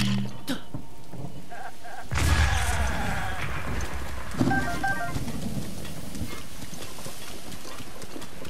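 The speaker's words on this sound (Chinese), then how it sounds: "好像有点打雷啊" Rain and rumbling thunder in the Zelda: Breath of the Wild game world, with steady rainfall throughout and a louder rolling thunder swell near the start, followed by a smaller crack midway.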